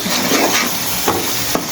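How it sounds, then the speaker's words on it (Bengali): A spice paste sizzles and fries in a pan while being stirred, a steady close crackle with scraping strokes of the spoon repeating every half second or so. "এখন আমি মশলাটাকে ভালোভাবে কষিয়ে নিব।"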